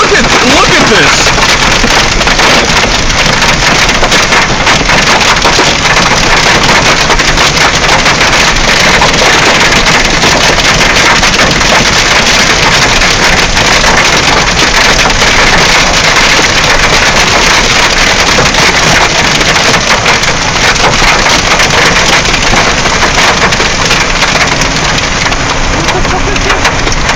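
Dense, constant clatter of hail pelting down during a Chicago hailstorm, loud and relentless throughout with wind buffeting the microphone and someone talking over it.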